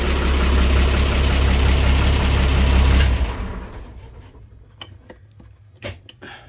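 A 1966/67 Volvo marine engine idles aboard a classic 1928 yacht in a boathouse: a loud, steady low rumble for about three seconds, then the engine cuts out, leaving quiet with a few faint clanks and knocks.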